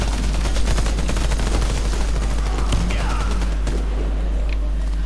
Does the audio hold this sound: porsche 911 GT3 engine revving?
no